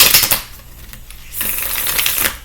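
Tarot cards being shuffled by hand, a crisp papery riffling and flapping that comes in two close bursts with a quieter pause between them, heard on its own without voices.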